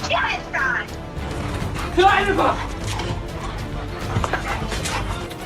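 A dog barks and yips in short bursts at a delivery driver, the calls moderately close and partly buried under a person talking.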